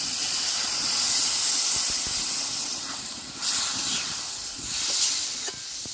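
Water poured into a pan of frying jackfruit curry, a loud sustained hissing sizzle of steam that swells and fades in waves.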